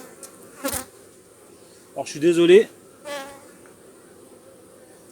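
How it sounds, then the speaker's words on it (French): A wasp buzzing inside a beehive super, short loud bursts of droning buzz, close by, with someone speaking French briefly in between. "Une guêpe qui est rentrée dans mon..."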